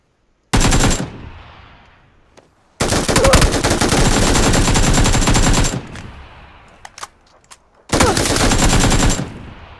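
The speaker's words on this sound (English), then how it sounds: "He's loading his machine gun right beside me." Bursts of video game machine gun fire, loud and close, in three long sustained volleys separated by short pauses with a few isolated shots between them.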